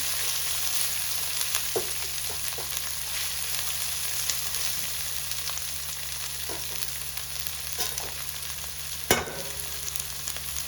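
Rice noodle ingredients sauté gently in a pan until lightly brown, giving a soft continuous sizzle with a few scattered stirring clicks and one sharper clatter near the end, with no voices.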